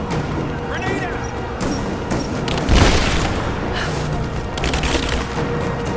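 A grenade detonates in the Rise of the Tomb Raider video game, a heavy boom rising out of dense gunfire and battle noise, with shouted voices in the mix.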